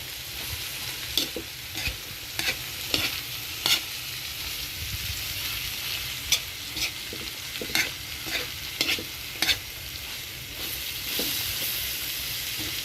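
Food being stirred in a hot, sizzling pan, with steady frying hiss and repeated sharp scraping knocks of the utensil against the pan, fairly close and without talk.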